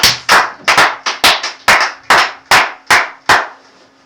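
A church congregation claps for Jesus in about ten loud, even, rhythmic claps in unison, which stop after a few seconds.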